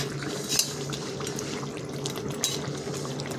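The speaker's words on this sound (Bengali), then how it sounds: "প্রত্যেকটা মাছ দিয়ে এইভাবে উল্টিয়ে দেবেন।" Fish pieces in spiced oil being flipped in a pan: a steady low sizzle with two sharp utensil clinks against the pan, close and moderately quiet.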